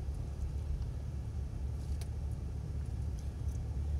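A car drives along a road during a driving lesson, giving a low, steady engine and road rumble with a few faint clicks inside the cabin and no talking.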